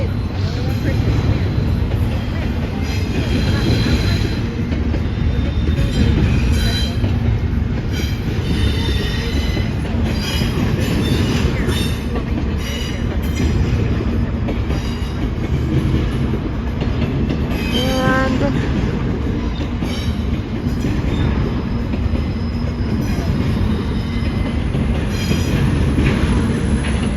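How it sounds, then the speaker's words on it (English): An Amtrak train rolls past close by for a long stretch, a loud continuous rumble of rail cars with clattering wheels and a brief high wheel squeal partway through. "I recorded one train."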